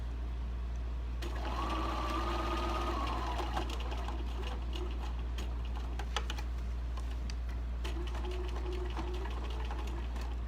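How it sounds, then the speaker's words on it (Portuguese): A sewing machine stitching strips of fabric runs in a steady, rapid mechanical whir with close needle clatter, stopping and starting again over a constant low background hum. "Agora eu vou costurar as duas faixas de dentro"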